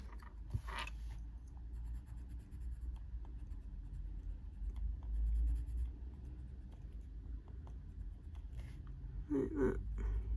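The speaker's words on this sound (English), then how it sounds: "Let me erase that off." An eraser rubs coloured pencil off paper in a colouring book, a soft, steady scratchy friction close to the mic with a few small handling clicks.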